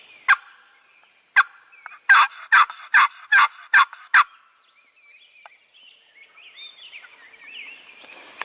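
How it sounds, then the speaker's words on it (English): A wild turkey gobbles in answer to a hunter's call in spring woods: a distant lone gobble, then a loud rapid string of about six gobbling pulses, followed by faint softer bird calls. "We just had a gobble out in this direction, way out."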